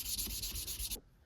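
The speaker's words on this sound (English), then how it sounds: "hand sanding them can really make your handles pop" Sandpaper rubbed by hand over an old knife handle, a steady rhythmic back-and-forth scratching of close strokes, broad and hissy, that stops abruptly near the end and leaves near silence.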